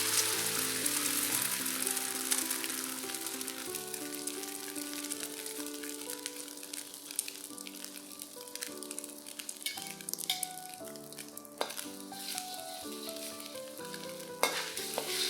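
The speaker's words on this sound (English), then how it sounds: "When the oil is hot, add in your eggs." Eggs fry in hot oil in a pan, giving a steady, dense sizzle and crackle that runs throughout, close and even, with occasional sharper pops and no voices.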